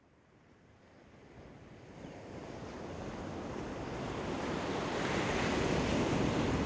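Ocean surf rolling in, a broad wash of breaking water that swells steadily louder over several seconds, with some wind noise on the microphone and no voices.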